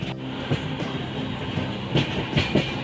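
Passenger train running on rails as it nears Kharagpur station, a steady rumbling roar with periodic clacking wheel beats over rail joints, close and continuous throughout.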